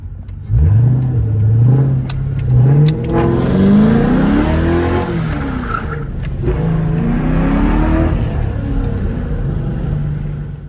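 A 2003 Ford Mustang Mach 1 engine revs hard and roars close by in a parking lot, pitch rising and falling through several pulls, with tire squeal mixed in.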